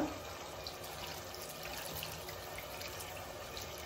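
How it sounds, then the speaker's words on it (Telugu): Water being poured into a pot of simmering chicken gravy, a steady splashing trickle that runs continuously and fairly close for a few seconds. "ఇప్పుడు కొన్ని వాటర్ పోసుకుందాము."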